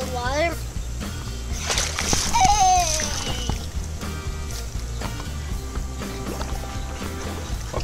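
Water sloshing and splashing as someone goes into the water while snorkeling, with a voice rising over the watery movement and people talking nearby throughout.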